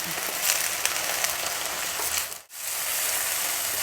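Onion flowers fry gently in a shallow oil tempering for jhunka, a steady soft sizzle that fills the clip, briefly dipping near the middle before resuming at even volume.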